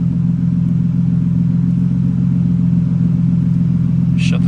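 A stock Nissan car engine idles steadily up close, a loud, even low rumble with a regular pulsing throb that holds throughout, joined by a brief higher whir at the very end.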